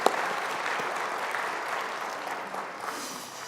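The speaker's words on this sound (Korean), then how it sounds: "우리 이분들을 위해서 박수 한번 좀 보내드리도록 하겠습니다." A church congregation claps together during a Sunday worship service, a dense, even wash of applause that holds steady for several seconds and eases slightly toward the end.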